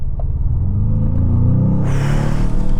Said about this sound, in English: That V8 muscle, it is such a recognizable sound,